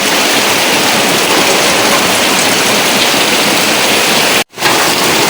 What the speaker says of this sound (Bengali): এই দেখেন কত পরিমাণে বৃষ্টি হইতেছে, বৃষ্টি পড়তেছে তো পড়তেই আছে